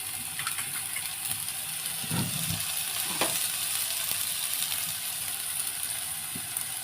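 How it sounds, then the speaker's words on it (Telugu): Oil sizzles steadily in a pan as masala is fried for fish curry, a soft continuous crackle with occasional stirring scrapes and brief louder pops, no one speaking. "మనకి పచ్చి వాసన తగ్గడం కోసం ఫ్రై చేసుకోవాలి కొంచెం ఆయిల్"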